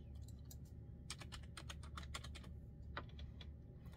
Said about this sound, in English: I'm going to type in victory.